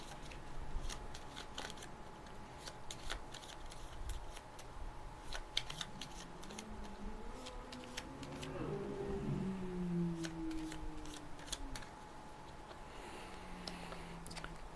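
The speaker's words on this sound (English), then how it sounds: "Shuffle this back up." Deck of game cards for a My Little Pony deck-building game being shuffled by hand: quiet, crisp riffles and ticking card flicks in short bursts, close by, with a faint low hum underneath and no talk.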